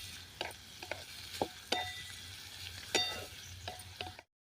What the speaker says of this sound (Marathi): आता कांदा गुलाबी रंग येईपर्यंत आपल्याला परतून घ्यायचा आहे